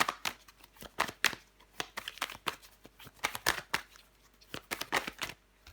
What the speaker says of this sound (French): Je recouvre encore des cartes.